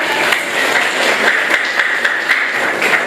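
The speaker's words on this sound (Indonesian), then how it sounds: "Oke, tepuk tangan dulu" A class of tenth-grade students claps their hands together in steady, dense applause that fills the room, loud and close, with no talk over it.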